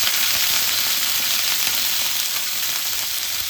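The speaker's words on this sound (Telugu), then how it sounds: "తీసుకొని ఇలా కొంచెం వేగేదాకా కలుపుకోవాలి మాడకుండా." Chicken liver frying in a pan with whole garam masala, green chilies, curry leaves and onion, a steady loud sizzle throughout with no talking.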